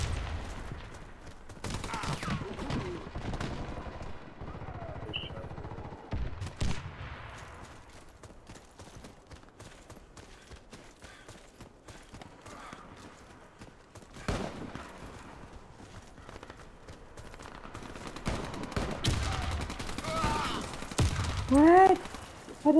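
Video game gunfire comes as scattered sharp shots and bursts, some loud and close and others fainter, with quieter stretches between and a voice talking over parts of it.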